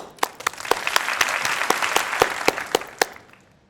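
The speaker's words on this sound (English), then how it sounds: "Please join me in giving them all a round of applause." A small group claps for a few seconds at an engineering school commencement, individual claps spaced unevenly and fading toward the end, without voices.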